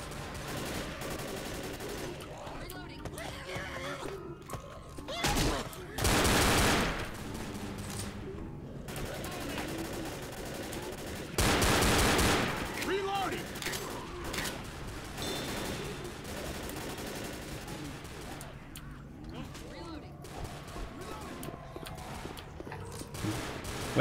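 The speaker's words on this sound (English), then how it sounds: "Shooting zombies." Guns fire at zombies in Left 4 Dead, with scattered rapid shots and bursts through the stretch and two loud, dense volleys, mixed with game noise and occasional talk.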